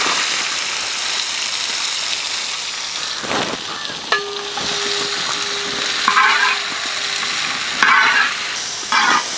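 Chopped onion frying in oil in an uruli, a steady close sizzle running throughout with faint stirring scrapes and a few brief clatters from the pan, no voices.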